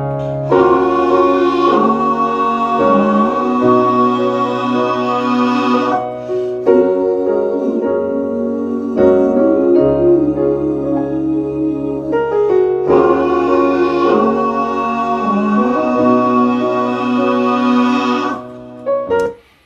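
Layered voices sing a sustained harmony chord progression with stacked parts moving together, full and steady throughout, a brief dip midway before the chords return, with no speaking.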